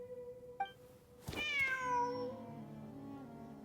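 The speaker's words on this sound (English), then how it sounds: "Wait, there it is! The cat!" A cat in Genshin Impact gives a single drawn-out meow that bends upward then slides down, fairly close and clear, following a soft musical tone and a small chime in a quiet scene without speech.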